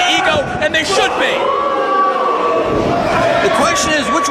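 Wrestling arena crowd roaring and cheering in support of Jon Moxley during a match against Robert Anthony, a loud, continuous wash of whoops and shouts that stays dense for the whole stretch.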